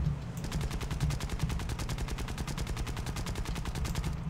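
Aircraft guns in the War Thunder video game fire a rapid, evenly spaced machine-gun burst lasting about four seconds, a steady rattling stream of shots heard alone without speech.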